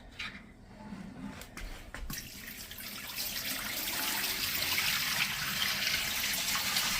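Potatoes for canning are tipped into a bowl of water, a loose clatter giving way to a steady rushing, sloshing pour that grows louder and fills the rest of the moment.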